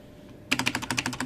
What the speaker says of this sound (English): tab, caps lock, shift, backspace, whatever this is, enter.